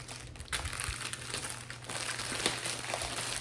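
Plastic wrapping around a Chanel cosmetic bag is torn open by hand, giving close, loud crinkling and crackling bursts with no talk.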